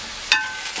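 A metal spoon clinks once against a pan as ground cumin and garam masala roast in hot oil, followed by a soft, short sizzle.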